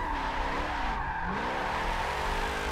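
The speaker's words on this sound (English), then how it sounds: "Stay nice and sideways, a little handbrake to keep ourselves at an angle." A car drifts sideways in Forza with the handbrake holding it at an angle: a steady, loud engine drone with sweeping tire squeal that rises and falls across the slide, with no talk.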